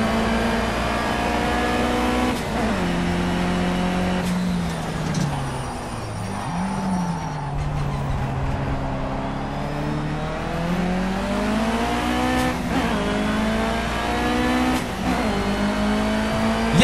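A Mitsubishi Lancer Evolution XFQ400 racing at Spa in Project CARS. The engine revs loudly and continuously, climbing through the range with repeated gear-shift drops, then easing off and pulling hard again, heard up close without talk.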